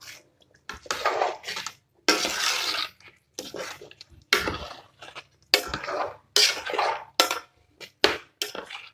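Spices, stock cube and salt being stirred together through a chicken tomato stew in a pot, giving a close run of irregular scraping and clattering bursts from the utensil against the pot, with short pauses between strokes.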